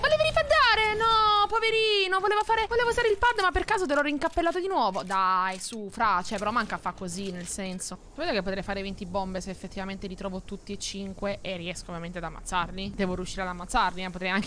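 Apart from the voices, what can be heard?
No everyday noise stands out behind the speech.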